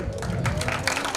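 A live audience at a Geeta Dham Tinwari show claps steadily, a dense, sustained wash of applause with some crowd noise and voices mixed in.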